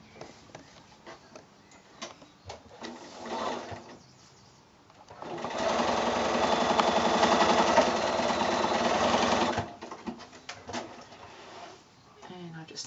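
Sewing machine stitching quilt binding strips together for a shoulder bag: a steady, close mechanical whir runs for about four seconds in the middle, with quieter handling clicks and fabric shuffling before and after.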